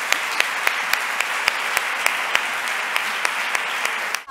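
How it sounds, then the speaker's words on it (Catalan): Steady applause from a gala audience fills the room, dense and continuous, with a few sharper claps popping out above the wash. "jo demano un fort aplaudiment per les dones"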